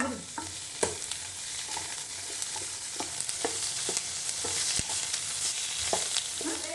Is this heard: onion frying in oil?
yes